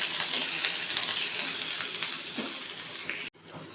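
Potatoes, onion and capsicum fry in a pan with a steady, close hissing sizzle and faint stirring. The sizzle holds for a few seconds, then cuts off abruptly.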